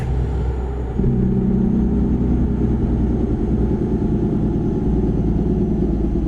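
Jake brake engine braking on a GMC General truck in American Truck Simulator: a deep, steady rumbling drone with a harder growl cutting in after the first second and holding.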